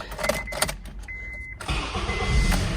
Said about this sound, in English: Started, guys. So good. Starter's good. Engine running.